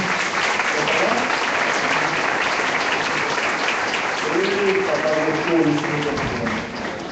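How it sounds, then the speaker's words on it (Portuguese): A crowd claps and cheers continuously, sustained applause filling the room at a church service, with some voices calling out toward the end. "Vamos aplaudir o Senhor pela vida aqui."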